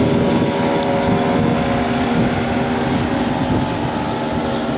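Outboard engine of a 1997 Proline 21 Walkaround Cuddy boat throttled up on the water, a loud steady droning hum with wind noise buffeting the microphone throughout.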